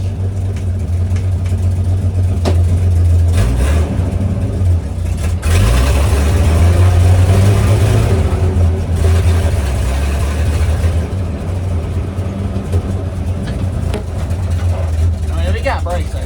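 A C60 crew-cab truck with dually rear wheels, body being removed from the frame, drives in high range; its heavy engine drones low and steady throughout, rising briefly around shifts, with people talking over it.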